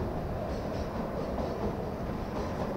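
A 2 ft 6 in narrow-gauge toy train runs on the Kalka–Shimla line of the Northern Railway, giving a steady, even rumble that holds at one level throughout, with no voices.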